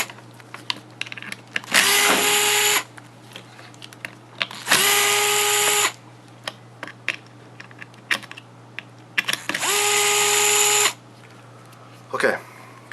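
A power drill backs out four screws from a Rowe hopper in three separate bursts of whirring, each about a second long and well spaced, over a steady low hum and faint handling clicks.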